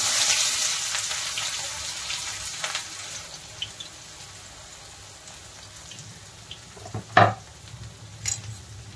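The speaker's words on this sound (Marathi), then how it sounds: "तेल गरम झालंय, मी तेल टाकून ठेवलेलं। जिरं टाकूया अर्धा टीस्पून, लगेच कांदा टाकूया।" Cumin seeds and chopped onion hit hot oil in a home kitchen pan, giving a steady soft sizzle with scattered crackles and a louder burst of spitting near the end; no talking.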